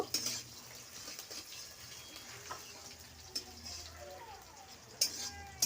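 Chopped spring onions stirred in a hot pan, with a soft continuous sizzle under scattered metal spatula scrapes and a few sharp clinks against the pan.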